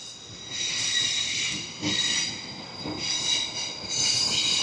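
Trains pass near Roma Street Parkland in Brisbane, with a sustained rolling roar and hiss and high metallic whines from the wheels, rising and falling in waves as carriages go by, fairly close.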